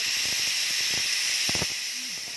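A pressure cooker cooking mutton vents steam in a steady, loud hiss that holds throughout and tapers slightly at the end, with faint clicks underneath.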